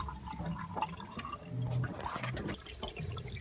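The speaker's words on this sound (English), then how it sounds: "we're just draining off the water" Water trickling and dripping irregularly from a diesel fuel tank drain valve on a boat, a small steady drain with splashing drops and faint gurgles, nearby and fairly quiet.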